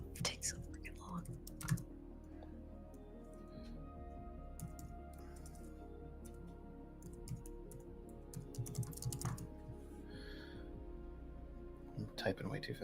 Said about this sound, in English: typing way too fast. I'm just mistyping stuff.